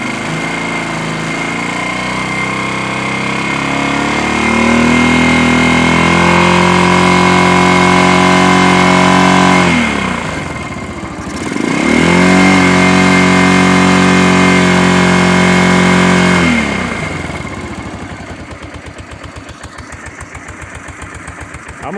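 A motorcycle engine tuned far too rich after exhaust changes idles with a steady harmonic drone, then revs up and falls back twice in long sweeping pulls before settling to a loping idle, loud and close with no talking.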